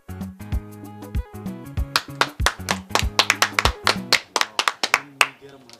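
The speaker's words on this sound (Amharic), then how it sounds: "አንዴ ለጽሄ ጭብጨባ ያስፈልጋል" A small group claps for several seconds, with uneven, sharp hand claps that grow quicker and more scattered before trailing off, heard up close over a steady low musical tone.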